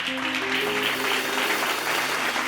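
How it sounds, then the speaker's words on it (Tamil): A church congregation at a Bible study claps hands together, a dense burst of applause lasting a couple of seconds with a faint voice tone beneath it. "கைத்தட்டுங்க ஒருவருக்கு."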